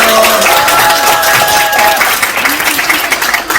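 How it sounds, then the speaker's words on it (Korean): A crowd of guests at a child's first-birthday party applauds, a loud, full burst of clapping that thins slightly toward the end, with a bit of voice and cheering mixed in. "큰 박수 보내주세요."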